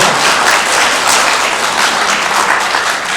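Steady applause from a lecture audience after a talk on Korean traditional folk painting and lacquer art, a dense, even wash of clapping that holds loud throughout, with no voices over it.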